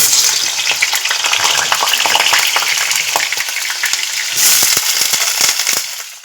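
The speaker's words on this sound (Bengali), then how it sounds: "তেলটা হয়ে আসলে আলুগুলো এবার ভেজে নেব।" Potatoes frying in hot oil in a wok for a vegetarian fig dish, a loud, dense, continuous crackling sizzle with sharp pops throughout, close up and alone.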